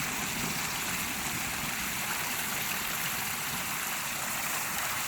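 Water driven by a 3,500 gallon pump pours over a spillway bowl waterfall into a fish pond, a steady, loud, close rushing splash that holds evenly throughout with no voices.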